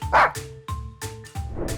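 A dog gives two or three sharp, close barks spaced apart, punching through a light, steady music bed with regular beats underneath.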